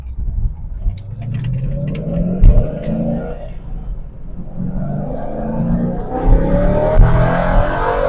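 A 2001 Chevrolet Corvette engine rumbles while driving, a low, throaty drone that swells and eases as the car pulls along, heard from inside the cabin with no talking.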